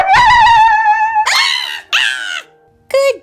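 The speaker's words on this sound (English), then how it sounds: "a coyote's howl pierced the night." Long canine howl from a coyote in a farm-toy play scene, one sustained wavering howl followed by three shorter rising yips and cries, loud and close with no talk.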